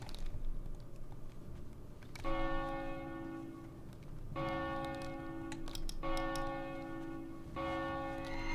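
A town bell rings in World of Warcraft, struck about four times at steady two-second intervals. Each strike is loud, with a bright, lingering metallic tone that rises over low game ambience.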